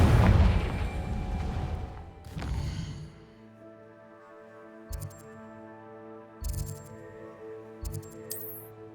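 Fiery Confringo explosion spell from the game Hogwarts Legacy: a loud, dense blast opens with a broad rumbling burst, a second sharp impact follows about two seconds later, then a lingering tonal hum with a few small clicking chimes.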